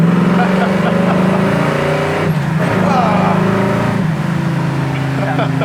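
A 1968 Camaro SS engine runs steadily and loudly with a brief dip as the gears shift, then pulls on again. Faint voices sit underneath.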